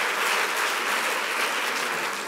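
Continuous applause from a seated audience at a French awards event, an even, full roar of many hands clapping with no pauses.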